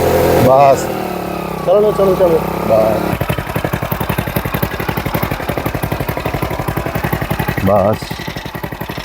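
A motorcycle engine idles and then settles into a steady, rapid low throb as the rider shifts into gear, running close by beneath intermittent spoken instructions.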